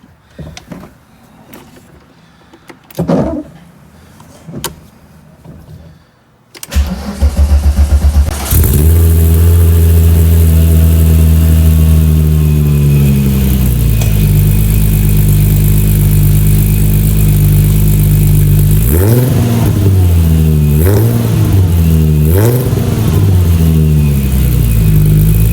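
A supercharged VR6 engine in a VW Mk1 Golf cranks and catches after a few quiet knocks, then settles into a loud, steady idle with a couple of sharp revs near the end, close up and with no talking.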